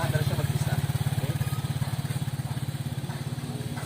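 A motorcycle engine chugs in a fast, even low-pitched pulse while the bike is in first gear with no throttle applied, steady and close throughout.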